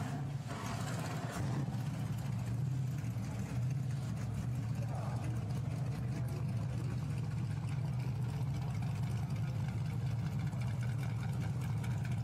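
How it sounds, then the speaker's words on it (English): GT4 race car engines idle and rumble together on the grid at the Nürburgring in a steady, continuous low drone, with a commentator talking over it throughout. "So engines fire up, clock ticks down."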